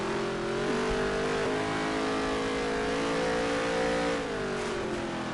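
A stock car engine in NASCAR Heat 3 drones steadily at high revs through a practice lap, its pitch holding level before dipping and rising again, loud and continuous with no talk.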